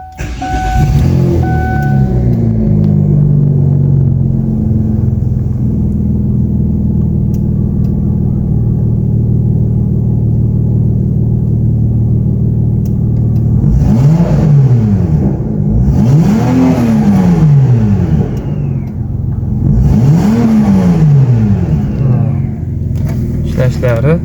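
A Kia Carnival's 2.7-litre V6 petrol engine starts in a workshop, settles into a steady idle, then revs up three times with rising and falling sweeps, while someone talks over it.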